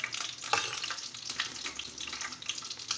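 Cumin, asafoetida and turmeric sizzle in hot oil for Gujarati moth masala, a quiet, crackly frying hiss with small pops and an occasional stirring clatter, fairly faint and continuous.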